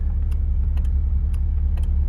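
A relay in a Nissan 370Z clicks on and off under the hood, sharp ticks at irregular intervals, roughly five or six, over a steady low engine rumble from the idling car.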